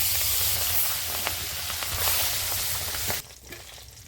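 Pabda fish frying in hot mustard oil in a kadai gives a steady, close sizzle with small pops, then drops sharply to a quieter hiss near the end.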